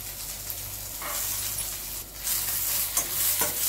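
Okra with garlic sautéing in a pan, a steady crackling sizzle broken by brisk spatula stirs and scrapes, close and clear without any talking.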